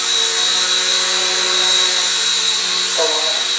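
Steady high-pitched electric whine from a small XK K123 AS350 RC helicopter's motor and rotor as it lifts off, a continuous close-up buzz with a slight pitch shift near the end.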